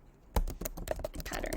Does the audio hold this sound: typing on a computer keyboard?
yes